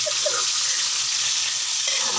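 Ground pork sautéing in a pan for spaghetti, a steady close hiss of frying with faint scrape of stirring.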